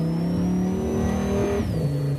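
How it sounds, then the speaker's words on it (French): A car accelerating on a race circuit, with a loud, close engine note rising steadily in pitch before it drops briefly as the gear changes. "Et ça y est, on accélère un petit peu, Lionel."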